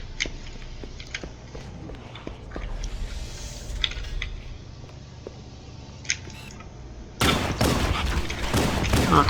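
Weapon fire in the video game Halo: Combat Evolved, scattered sharp shots over a low rumbling game background, then a louder dense burst of firing near the end.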